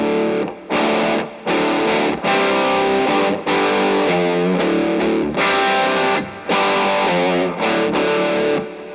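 Electric guitar played through an Electro-Harmonix Soul Food overdrive pedal, crunchy driven chords and riffs in rhythmic bursts with short gaps, loud and close with no talking.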